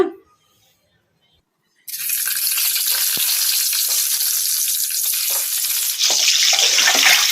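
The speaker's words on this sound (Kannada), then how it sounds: "ಮೊಟ್ಟೆಯನ್ನು ಮೀಡಿಯಮ್ ಫ್ಲೇಮಲ್ಲಿ ಈ ಥರ ಕಲಸ್ಕೊಂತ ಫ್ರೈ ಮಾಡ್ಕೋಬೇಕು" Eggs hit hot oil in a kadai and fry on medium flame, breaking into a loud, sustained sizzle after a near-silent start, close up, swelling brighter toward the end as they are stirred.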